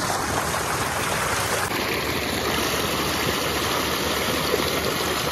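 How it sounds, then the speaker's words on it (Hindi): Steady, loud rush of water pouring from a farm motor pump running continuously in a field, a dense unbroken gush filling the whole stretch with no voices. "ये दिन रात मोटर अब चल रही है कि बारिश तो हो नहीं रही तो ये पानी दिन रात चल रहा है।"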